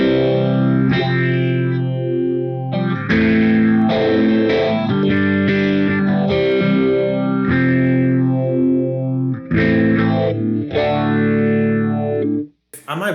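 An electric guitar plays chords through a UAFX Astra modulation pedal set to MXR Script phaser mode, the tone sweeping and swirling up and down across sustained strums, loud and close.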